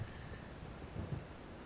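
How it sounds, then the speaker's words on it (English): Steady rain in the video game Kingdom makes a continuous soft hiss, faint and even, with a low rumble underneath and no talking. "But it's raining right now."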